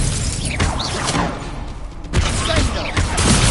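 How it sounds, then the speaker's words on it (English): The Expelliarmus spell is cast in the Hogwarts Legacy game as a series of sharp, crackling magical bursts and whooshes, several loud impacts in quick succession against a busy combat background. "Expelliarmus!"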